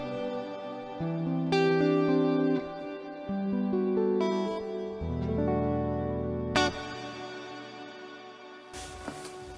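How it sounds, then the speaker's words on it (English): Guitar chords and single notes played through a Fender Marine Layer reverb pedal on its plate-like Hall Variation 2 setting, each sustained note ringing with a long lush tail, ending on a brief bright noisy burst. "So Hall Variation 2 is a bit more plate-ish."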